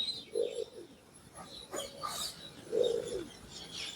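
Pigeons coo low and soft in two distinct rounded bursts, fairly near, with fainter chirps and other birdsong in the background.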